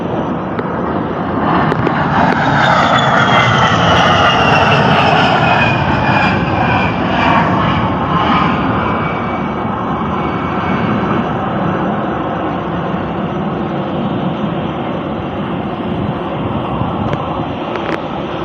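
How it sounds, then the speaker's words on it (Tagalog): An American A-10 jet aircraft roars loudly overhead, its engine swelling into a harsh whining pass that peaks early and then fades into a long, steady rumbling drone as it moves away. "Mga eroplano mandirigma ng Amerika na ispatahan sa Iloilo"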